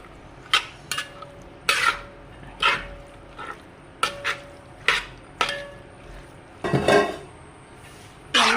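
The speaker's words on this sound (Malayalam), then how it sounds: "നമ്മൾ വറുത്ത് വെച്ചിരിക്കുന്ന ചെമ്മീൻ ഇതിനകത്തേക്ക് മിക്സ് ചെയ്യുവാണേ." Fried prawns being mixed into prawn pickle in a pan, a series of about a dozen distinct metallic scrapes and clanks of a spoon against the pan at an uneven rhythm, close and clear.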